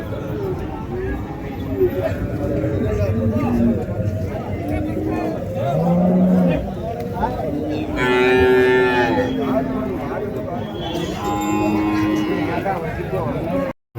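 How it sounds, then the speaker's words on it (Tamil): A pair of heifers and other cattle low repeatedly at a busy cow market in Orappam, with loud, drawn-out moos rising over a steady background of crowd chatter and nearby voices. "நல்லா சூப்பரான கிடாரிங்க ஜோடி."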